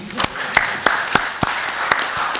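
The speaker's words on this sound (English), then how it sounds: "I think I will ask you to please clap for yourself" Members of the press at a military briefing clap for themselves: sparse, separate claps from a small group, each one sharp and distinct in a roughly even rhythm.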